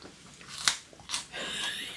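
Crisp crunches from freeze-dried loquat being eaten, two or three sharp bites spaced apart, quiet and close.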